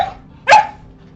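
A dog gives a single loud, sharp bark, close and alone against a quiet background.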